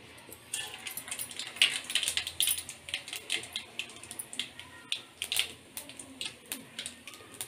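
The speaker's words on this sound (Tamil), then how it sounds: "எண்ணெய் காஞ்சிச்சு இப்போ கடுகு போட்டுக்கலாம்" Mustard seeds popping in hot oil for puliyodharai, a scatter of small sharp crackles repeating fairly steadily, close and soft with no talk.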